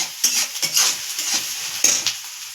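Onion frying in a pan until golden, with soft sizzling and several scraping stirs of a utensil against the pan, close and moderately quiet.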